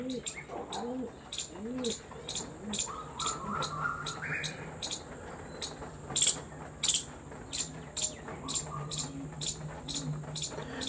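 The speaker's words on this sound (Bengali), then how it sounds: "খুবই রেয়ার কোয়ালিটির পায়রা এগুলো।" Pigeons in a seller's loft give repeated soft, throaty coos up close, joined by scattered chirps and light rustling.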